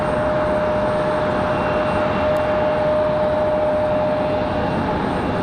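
An airplane at Raleigh Durham International Airport at night, a steady broadband engine roar holding loud and constant throughout with a faint tonal whine riding on top.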